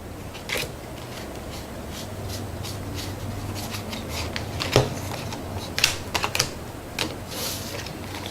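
Junk Art World Tour cards being shuffled and handled on a table, a run of light papery flicks and taps with a few sharper snaps near the end, close up and with no talk.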